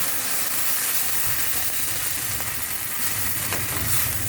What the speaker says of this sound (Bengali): পরিমাণ মতো গরম জল দিয়ে দিলাম।